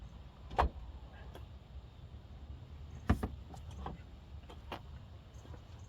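Third-row cargo roller cover being unlatched and pulled out of a 2025 Lexus GX 550 Sports Luxury: two sharp plastic clicks from spring-loaded latches, then light rattles and handling knocks inside the cargo area.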